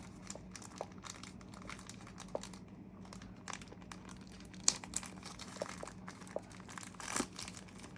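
Redmi Watch 5 Lite smartwatch packaging being torn and crinkled open by hand, a quiet, steady run of papery crumpling and small rips with a few sharper tears near the end, close and alone.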